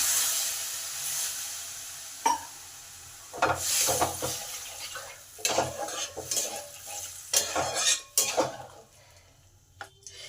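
Potatoes for a potato curry being stirred in a pan after half a cup of water is poured in, with soft sizzling and repeated scraping knocks of the spoon at an irregular rhythm, close and moderately loud.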